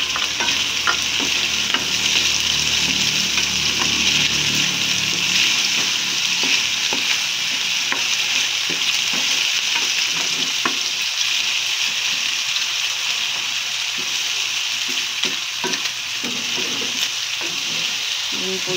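Corned beef sizzling in a pan with onions, loud continuous frying hiss with scraping stirs and clicks of a utensil throughout, close up and without talk.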